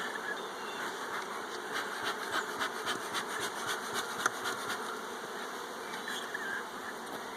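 Honey bees swarm around a swarm trap, not yet oriented to the spot, in a steady dense buzz that holds evenly throughout, close and moderately quiet with no voices.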